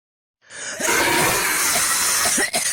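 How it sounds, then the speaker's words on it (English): A harsh, noisy throat-clearing rasp starts abruptly and lasts a couple of seconds, loud and close, with a brief dip near the end. "you caught me clearing my throat before I went live"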